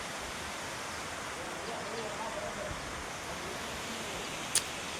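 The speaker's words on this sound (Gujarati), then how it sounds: "ડેમ અને ડેમની પરથી પાણી પડે છે." Water pouring over the dam at Devzari waterfall near Dahod, between hills where a river runs, making a steady, dense roar that holds unchanged throughout, with a brief click near the end.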